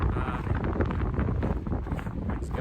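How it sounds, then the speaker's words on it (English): Wind gusts on a Pacific Crest Trail hike buffet the microphone in a steady, loud rumbling roar that swells slightly throughout. "it's gusting again"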